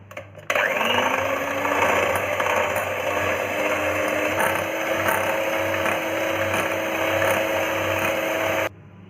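Continuous whirring drone of an electric beater whipping instant coffee powder mixture for dalgona coffee, starting abruptly, holding steady and close, then cutting off near the end.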